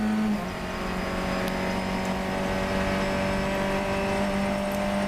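A Funcup race car at Croft circuit accelerates hard along the straight, its engine a loud, sustained whine that holds and builds across the run.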